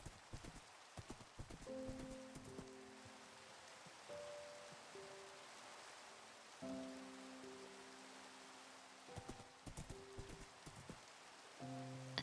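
Rhythmic clip-clop of horse hooves from a Minecraft horse climbing a hill, steady and fairly close, with occasional tonal game sounds and a soft rain-like hiss in the background; no talking.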